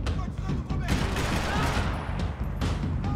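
Rifle gunfire in Max Payne 3, with rapid bursts of shots cracking repeatedly over a noisy firefight, loud and near, with a voice talking underneath.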